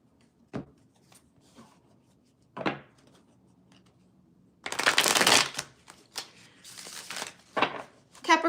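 After a few quiet clicks of cards being handled, tarot cards are shuffled in a dense papery burst up close, then in several shorter rustles and snaps.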